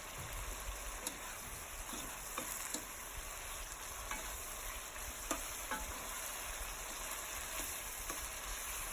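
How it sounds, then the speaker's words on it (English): Red bream sizzles as it fries in a pan over an open fire, a steady bubbling hiss with occasional sharp pops and crackles, close and unbroken by speech. "my fish has been frying on the fire"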